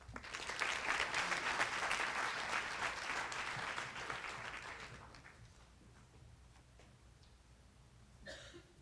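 Audience at a high school senior awards ceremony applauding a scholarship winner, a full burst of clapping that fades over several seconds, followed by a few scattered coughs in a quiet room.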